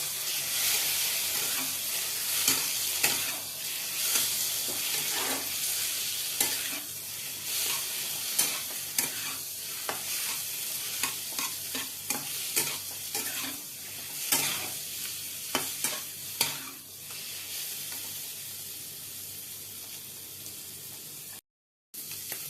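Chicken fries in oil with a steady, loud sizzle while a spatula scrapes and stirs repeatedly against the pan, ending with a brief cutoff.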